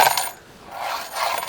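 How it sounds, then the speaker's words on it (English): Keys dropped into the hard plastic storage tray of a Volvo EX30, giving two bright jangling, rattling bursts with a brief lull between them. "You can hear this plastic, you can hear stuff moving about"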